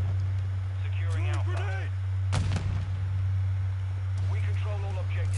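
Call of Duty match with a grenade blast bursting loud and sharp mid-clip amid gunfire, under a steady low hum, while players talk over voice chat before and after the explosion.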